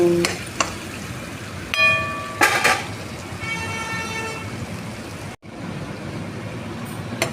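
Gongura leaves simmer in oil over low heat with a soft, continuous sizzle and occasional stirring scrapes, punctuated by a few sharp tonal beeps and a brief break near the end.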